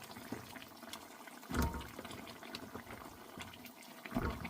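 Chopped, washed bottle gourd goes into a pot of boiling water with meat, giving two watery splashing bursts over a steady bubbling simmer, with no talking.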